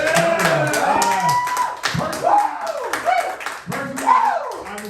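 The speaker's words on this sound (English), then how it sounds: "One more round of applause for you." Audience applause at a comedy roast show, steady clapping from a crowd that rises and falls, with someone speaking over it and voices mixed in throughout.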